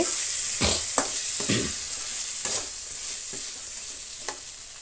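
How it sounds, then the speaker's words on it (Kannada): Tomatoes fry in a pan as turmeric powder is stirred in, giving a steady close sizzle broken by several scraping stirs of a spoon against the pan. "ಟೊಮೆಟೊ ಸ್ವಲ್ಪ ಚೆನ್ನಾಗಿ ಫ್ರೈ ಆದಮೇಲೆ ಅರಿಶಿನ ಪುಡಿ ಸ್ವಲ್ಪ ಸೇರಿಸ್ತಾ ಇದ್ದೀನಿ"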